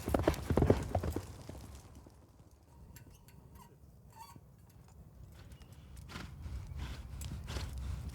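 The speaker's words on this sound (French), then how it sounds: "Les cavaliers doivent galoper sur une piste longue de plus de 200 mètres" Horses gallop down a long track during yabusame mounted archery, hooves thudding in quick rhythmic clip-clop, loud at first, then fading to a distant patter before building again.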